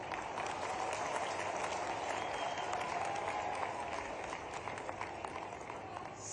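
A large crowd at a public inauguration event during a chief minister's visit to Shujalpur claps continuously, a dense, even wash of applause that fades slightly toward the end.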